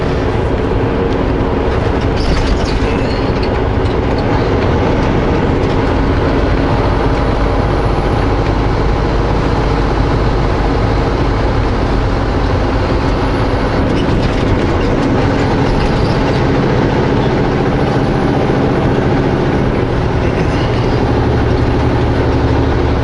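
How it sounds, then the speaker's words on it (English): A train rumbles past close by, a loud continuous roar with rhythmic rail clatter that persists throughout. "they're scared that the train coming by with both of the tippers being in such a weird position could vibrate"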